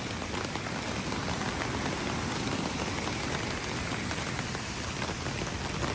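Steady rain falls at night in Furong Town, a Chinese waterfall town, producing a dense, even hiss of drops on surfaces that holds unchanged throughout, with no voices.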